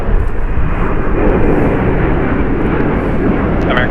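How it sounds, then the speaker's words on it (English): A 21-year-old Boeing 737-8 airliner departs LAX, its steady, loud jet roar filling the whole stretch without a break and with no voices over it. "Departing here is United Airlines 1069 going to Chicago, a Boeing 737-8, 21 years old."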